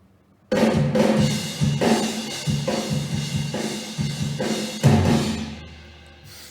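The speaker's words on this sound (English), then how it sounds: "this is what the drums sound like on their own" Programmed MIDI drums play a driving pattern of kick, snare and cymbal hits on their own, loud and close, before a final crash lets the sound fade out.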